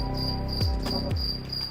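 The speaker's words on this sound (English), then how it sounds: "The crickets." Crickets chirping in a steady insect chorus, a sustained high trill running continuously at moderate level with no voices over it.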